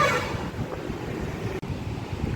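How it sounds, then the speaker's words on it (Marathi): Water pours steadily from a cow-head spout, fed by seepage from the Konkan hills, making a continuous close rushing splash with no voices. "गाईच्या मुखातून जे पाणी वाहतंय ते दाखवतोय"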